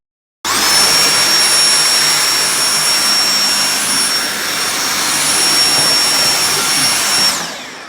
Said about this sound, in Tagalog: Laki mo na makapulot ka ng ganitong vacuum na Dyson